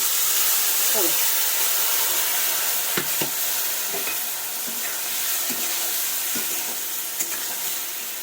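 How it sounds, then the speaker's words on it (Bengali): Potatoes fry with a spice mix in a pan, giving a steady hiss and sizzle broken by scattered scraping stirs and clinks, with a little talk now and then. "এই যে মশলাটা আমি করে রেখেছিলাম আলু ভাজার জন্য সেই মশলাটা কিন্তু আমি দিয়ে দেবো"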